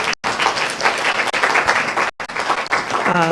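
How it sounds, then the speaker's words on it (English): Dense, loud audience applause at a community redevelopment meeting, a continuous wash of many hands clapping with two brief dropouts, and a voice begins speaking just as it ends. "And so I really just want to give him a round of applause for that."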